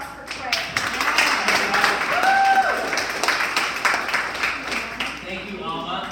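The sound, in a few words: audience applause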